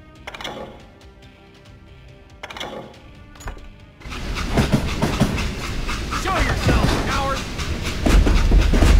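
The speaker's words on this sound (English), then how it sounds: "How did they stop this train in the first place?" In the Western shooter game Call of Juarez: Gunslinger, a train rolls along rails with a rumbling, rattling clatter that swells loud and steady after a few quieter clanks and thuds.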